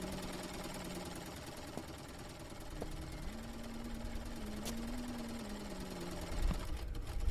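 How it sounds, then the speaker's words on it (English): Sewing machine running in a horror video game, a fast steady mechanical rattle with a low motor hum that shifts slightly in pitch, faint and continuous, no voices. "That's the sound of somebody using the sewing machine."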